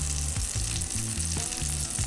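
Quail tandoori frying in hot oil, a steady loud sizzle with rhythmic bursts of bubbling crackle, close and continuous with no voices.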